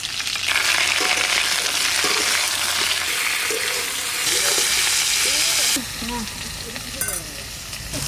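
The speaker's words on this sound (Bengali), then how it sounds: "আলুটা একটু ভাজা ভাজা হয়ে গেছে, এবার তুলে নিচ্ছি" Salted potatoes fry in hot oil with a loud, continuous sizzle and crackle that eases a little toward the end, while faint stirring sounds come and go.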